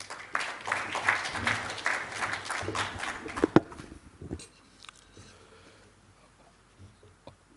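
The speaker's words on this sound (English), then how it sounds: "Please welcome him with a warm round of applause." A hall audience at the 35th International Congress of NRIs gives dense applause to welcome a speaker, loud for about four seconds before thinning into scattered claps and quiet.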